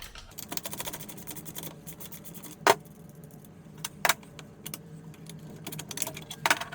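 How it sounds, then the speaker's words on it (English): A wrench works on the swing arm bolt of a Syx Moto 50cc dirt bike, giving rapid clicking ratchet sounds and a few sharp metallic clanks over a quiet workshop background. "I think I'm going to take this swing arm bolt out and maybe the bottom bolt of the shock"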